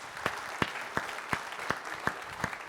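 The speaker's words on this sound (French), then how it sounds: "Applaudissements pour le skipper britannique." Sparse, evenly spaced claps, about seven in under three seconds, faint and steady, from an audience greeting a British skipper at the official skipper presentation of the Golden Globe sailing race.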